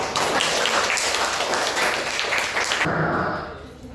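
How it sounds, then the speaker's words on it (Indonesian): A room full of students claps together after a classroom presentation, a dense, fairly loud burst of applause that holds steady and then cuts off, leaving a quieter room. "Makasih Nicholas, tepuk tangan."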